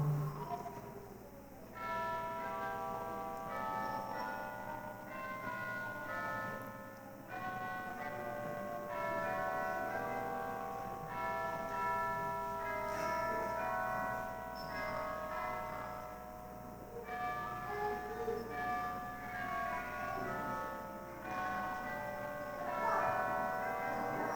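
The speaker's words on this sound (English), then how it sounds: "there came, softly but distinctly, the sound of chimes in the tower" Church bells chime in a slow, steady sequence, ringing tones overlapping and sustaining, heard from a distance with a soft background hum.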